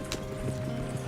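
Horses gallop in the Red Dead Redemption 2 video game, a steady run of hoofbeats at moderate loudness over a low background rumble, with no clear talk.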